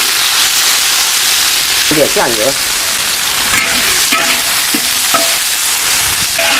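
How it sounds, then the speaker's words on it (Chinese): Sliced beef stir-frying in a wok over a wood fire in a rural Xiangxi kitchen gives a loud, continuous close sizzle with scraping spatula strokes, while a voice speaks briefly over it. "牛肉下锅了"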